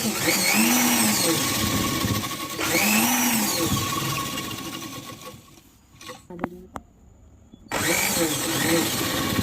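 Close, loud whirring of a sewing machine running a continuous round seam on a petticoat, broken by a short quieter stretch with small clicks and handling before the motor resumes.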